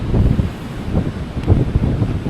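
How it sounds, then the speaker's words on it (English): Steady wind buffeting the microphone outdoors on K'gari (Fraser Island), a low continuous rumble with gusty swells throughout and no other clear sounds. "The wind on the windsock is definitely a lot less than yesterday."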